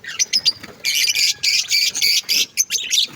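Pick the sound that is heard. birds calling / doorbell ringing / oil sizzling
birds calling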